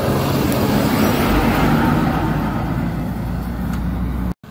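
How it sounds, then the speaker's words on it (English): A large truck passes along a rural road, its loud broadband engine and tyre roar filling the scene and fading out at the end, with no talk over it. "Oh, there's a bloody car coming now."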